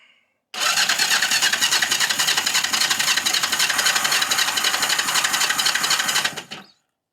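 A Yamaha XS 250 classic motorcycle cranks over with the choke on, a loud, steady mechanical whirring that runs for about six seconds and then cuts off, up close and with no voices.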